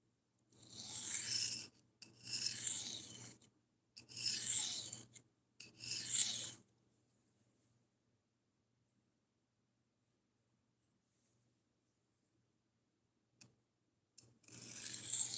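A knife edge scrapes across a coarse 140-grit whetstone during burr removal, four even rasping strokes in a row, then a long silence before one more stroke begins.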